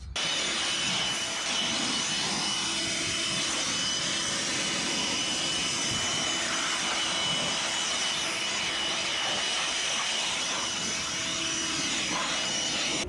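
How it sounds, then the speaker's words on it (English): A small handheld blower blasting debris out of a Generac Honeywell standby generator, with a loud continuous close whooshing roar that holds steady throughout. "I'm going to blow this thing out with my little blower"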